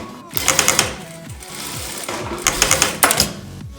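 An electronic straight-stitch sewing machine runs in two short bursts of rapid mechanical stitching, close and steady, with a brief quieter hum between them.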